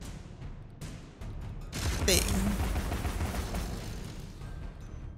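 A cannon crab enemy in Alice Madness Returns firing its cannon in a loud burst, sharp impacts and a rattling, gunfire-like barrage over a rumbling low end, with a brief voice in the middle.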